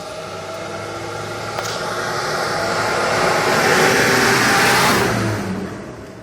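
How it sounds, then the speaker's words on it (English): A school bus roars past, its engine swelling to a loud peak near the middle and fading away, with broad rushing noise and no voices. "That school bus is loud as hell."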